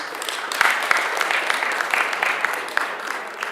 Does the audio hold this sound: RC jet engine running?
no